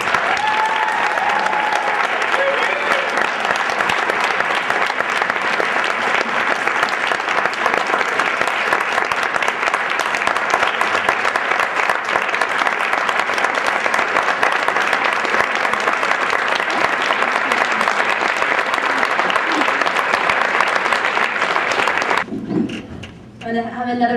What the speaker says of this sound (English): I'm going to have another big round of applause for Lee Harrington.